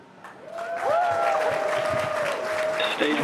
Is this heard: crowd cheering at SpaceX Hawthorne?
yes